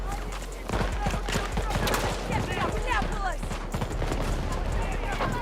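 Video game gunfire crackles in dense, rapid volleys throughout, a steady barrage of overlapping shots under ongoing speech-like chatter and game noise.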